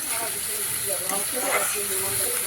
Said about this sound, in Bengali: তেলের মধ্যে দেওয়া হচ্ছে মশলাটা তেলের মধ্যে দেওয়া হয়ে গেছে এবারে কষানো হবে